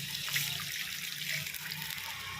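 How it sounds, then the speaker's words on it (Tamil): Water pours steadily into roasted samba wheat semolina in a pan while making kesari, a continuous close splashing hiss with no pauses. "இப்போ தண்ணி ஊற்றிக்கலாம்"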